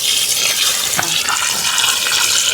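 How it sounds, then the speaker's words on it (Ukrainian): Running water rinses soil off freshly dug peony roots outdoors, a steady, bright splashing rush that stays close and constant throughout with no voices. "треба коріння вимити, щоб бачити, де брунічки"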